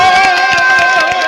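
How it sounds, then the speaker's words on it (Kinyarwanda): A crowd of residents in Bukavu cheers and chants together like stadium fans, a loud, close and sustained mass of voices with a rhythmic, sung quality. "abaturage benshi babakiranya amajwi y'ibyishimo babaririmbira nk'uko bigenda iyo abafana bari muri stade"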